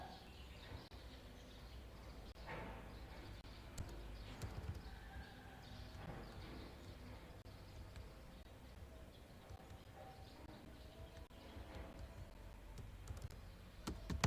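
Keys tapped on a computer keyboard in quick, uneven clusters, close by but fairly quiet over a steady background hiss, with no talking.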